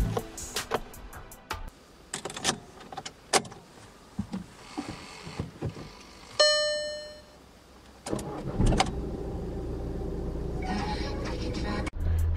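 A Skoda Superb II facelift 2.0 TDI diesel with 143,000 km is started cold. Scattered clicks and key sounds and a short electronic chime come first, then the engine cranks and catches at once and settles into a steady diesel idle.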